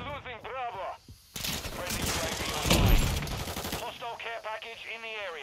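Vector submachine gun firing in a first-person shooter video game, a dense rapid burst of automatic fire lasting a couple of seconds, loud and close, with talk before and after the burst.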